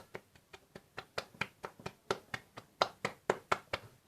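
A single person claps hands in a slow, steady rhythm, about four claps per second, around sixteen crisp claps in all, fairly faint and without other sound.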